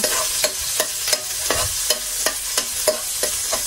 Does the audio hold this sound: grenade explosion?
no